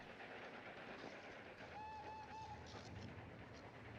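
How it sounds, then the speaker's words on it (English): A train rolls along the rails in 1940s New York with a faint, steady rumble, broken midway by a few brief, high whistle-like tones. "Oh, we're going for a train ride?"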